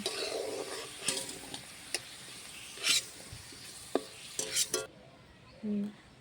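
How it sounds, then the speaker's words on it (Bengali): Potato pieces fry in hot oil in a pan, giving a soft, steady sizzle. A utensil stirs and scrapes the pan now and then, making sharp metallic clinks close by. "তাহলে আলুটা ভেজে নাও লাল লাল করে।"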